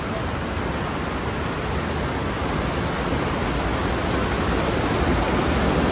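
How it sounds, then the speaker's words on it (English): Loud, continuous rush of churning water through a fish ladder at a dam on the Cocheco River, a steady broadband roar with no pauses, close by. "Yeah, very noisy. A lot of water flowing."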